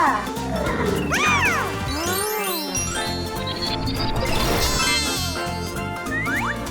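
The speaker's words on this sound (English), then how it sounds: "It's a zebra." Playful electronic toy animal sounds for a toy zebra, with warbling, sliding cartoon-like tones and jingling over a busy musical background, loud and continuous throughout.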